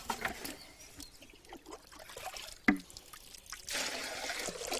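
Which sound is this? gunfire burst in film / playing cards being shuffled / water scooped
water scooped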